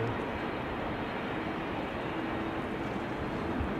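A KLM Boeing 777-200 airliner, seventeen years old, on flight 755 at a showery Amsterdam Schiphol, sounds as a steady, broad jet roar that holds at an even level throughout, with no voices.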